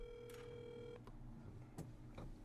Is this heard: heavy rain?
no